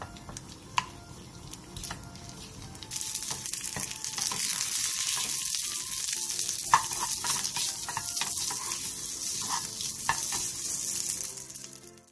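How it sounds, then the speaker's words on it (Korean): Crab sticks and kimbap ham stir-frying in an oiled pan over medium-low heat: a quiet start, then a steady loud sizzle with scattered scraping and stirring clicks, close up with no voices. "팬에 기름을 두른 뒤 게맛살과 김밥햄을 중약불에서 한번 볶아주세요"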